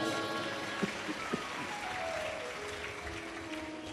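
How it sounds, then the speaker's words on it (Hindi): Steady, dense applause from a large audience at a Shiv Mahapuran katha, a Hindu religious discourse in Sehore, with a few sharper claps standing out early on; the clapping carries on evenly without talk. "एक बार जोरदार ताली बजाओ।"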